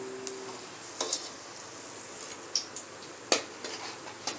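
Potato bondas fry in hot oil. The sizzle is soft and steady, broken by sparse pops and light clinks of a utensil.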